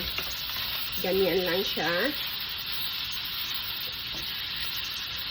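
Sausage browning in a pan with onion and garlic, a steady broadband sizzle running throughout beneath a short stretch of speech.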